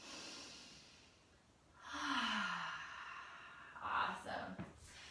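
A person takes a full, deep yoga breath, a long slow inhale followed by a heavy, audible sighing exhale, close and intimate, with a short breathy follow-up at the end.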